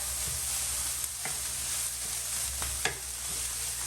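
Samosa filling sizzles steadily in a pan while a spoon stirs it, with a few sharp scraping clicks over the constant frying hiss and a low background hum; near, no voices.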